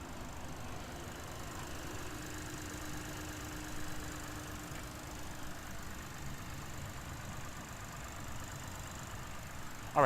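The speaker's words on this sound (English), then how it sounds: "we're just gonna listen to the engine for a second or two." A 2010 Lexus IS 250 C engine idles steadily throughout, a continuous even hum with a faint low tone and no talk over it.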